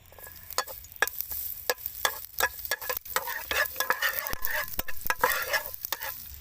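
Garlic frying in oil in a home kitchen pan, with irregular crackling sizzle and sharp clinks of a utensil stirring, close and fairly loud, no talking.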